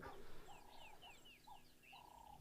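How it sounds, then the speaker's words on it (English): A fish eagle calls from the distance in a nature setting, giving a series of faint, thin, falling whistled notes over a soft outdoor background hiss. "did you guys hear the fish eagle in the background?"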